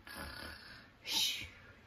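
A child-directed sing-along moment where a voice imitates a snore: one drawn-out breathy snore sound, then a second louder, hissier snort-like burst near the end, fairly close with no words spoken.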